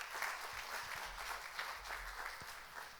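A church congregation applauds during a Sunday service, a soft, steady patter of many hands clapping that carries from a distance through a large room for about three seconds, with a few low thumps underneath.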